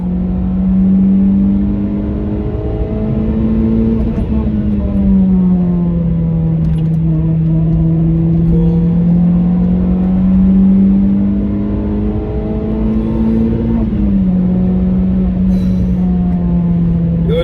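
Renault Clio RS hatchback engine pulling through a series of bends, a steady droning note that rises and falls gently with throttle, heard from inside the car with no talking.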